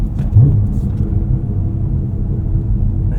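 Cadillac CT5-V Blackwing, a 2024 sports sedan, rolling slowly over wet hard-packed snow, heard from inside as a steady low engine and road rumble with a brief swell near the start.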